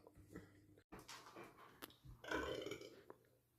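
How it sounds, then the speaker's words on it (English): A child lets out a big, loud burp close to the microphone. It is one drawn-out belch in the middle of a quiet indoor scene, with a few soft thumps and rustles around it. "I did a big burp, Dad."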